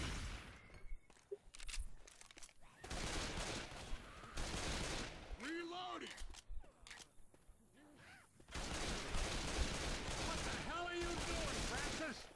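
Bursts of gunfire in Left 4 Dead 2, on a custom zombie campaign called Road to Nowhere 2. The shots come in loud clusters separated by short gaps, with a player talking between them.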